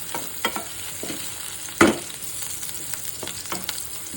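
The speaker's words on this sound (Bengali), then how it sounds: "রসুনটা হালকা ভাজা হয়ে গেছে" Chopped garlic fries in oil in a pan for beet fry, a soft steady sizzle broken by scattered stirring scrapes and one sharper clatter, close up with no talking.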